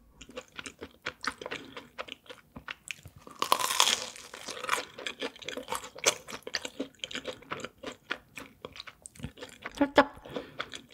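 A rosé cheese ball is bitten and chewed up close, with a loud crunchy bite followed by repeated soft, wet chewing and crackling in an irregular rhythm, no talk.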